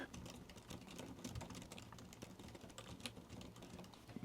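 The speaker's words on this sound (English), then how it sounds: "let's do one on the computer. My touch typing is not brilliant" Fast touch typing on a computer keyboard, a dense, steady stream of close, quiet key clicks running throughout with no talk.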